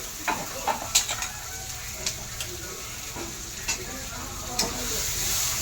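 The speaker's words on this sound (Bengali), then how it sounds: "মশলাটা ভালো করে ভেজে নিই।" A ground spice paste fries in a pan, giving a continuous close sizzle and hiss broken by scattered clinks and scrapes of stirring, with no talk.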